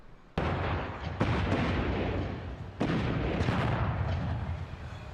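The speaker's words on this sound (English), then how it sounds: "Explosions" Explosions in the video game Dragon Age Inquisition, with several loud sudden blasts followed by long rumbling, crackling roars that fill the scene, set in a burning forest near an elven temple.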